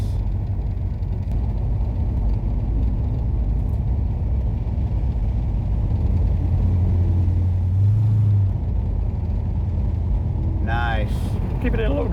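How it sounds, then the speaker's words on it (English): Car engine rumbling through aftermarket mufflers, a steady low exhaust drone close by with a brief rising rev near the end, while people chat over it. "Boy, mufflers sound good, don't they?"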